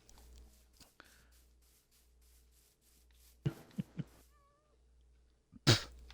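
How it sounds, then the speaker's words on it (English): A Minecraft cat gives a short meow near the end, following a few soft game clicks and thuds over a low background hum. "Ooh, pretty kitty."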